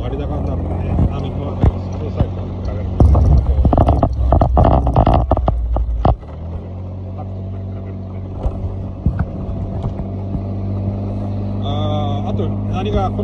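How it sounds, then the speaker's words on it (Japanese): A 2001 Honda Smart Dio AF57 four-stroke scooter with idle stop, its quiet engine idling with a low steady hum, while someone talks over it and clatter rises briefly midway. "静かだね、エンジンがね。"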